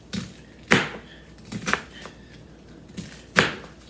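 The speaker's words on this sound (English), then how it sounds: "I'm going to be doing quite a bit of chopping here. So I got all my cabbage chopped up" A knife chops cabbage on a cutting board in a few sharp, separate knocks spaced unevenly over several seconds. The hits are close but fairly quiet, with a faint hiss between them.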